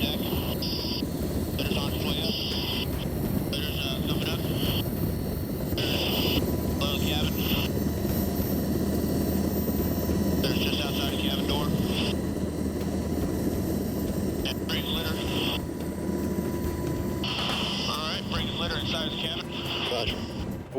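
A Coast Guard rescue helicopter hovers during a hoist operation in Alaska, its rotor and engine drone filling the background steadily and loudly. Radio chatter and spoken voices break in intermittently over it.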